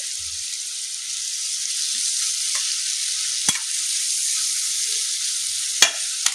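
Ginger frying in a pan gives a steady, bright hiss of sizzling oil close up, with a few sharp clicks from a utensil striking the pan.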